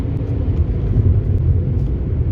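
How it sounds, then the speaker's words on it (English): A Volkswagen Vento TSI with a three-cylinder engine accelerates, heard as a loud, close, continuous low rumbling drone with no speech over it. "The engine with that 3-cylinder sounds like a half 6-cylinder motor."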